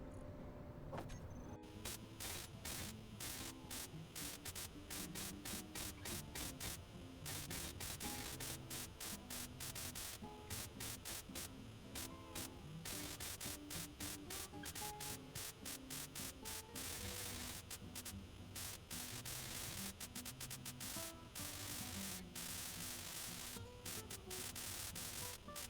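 Welding blocks in Space Engineers makes a continuous crackling, static-like hiss with rapid pulsing bursts, steady and close throughout with no talking.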